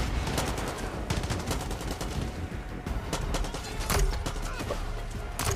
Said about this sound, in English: Oh, this is a grenade launcher? Who's got a grenade launcher gun?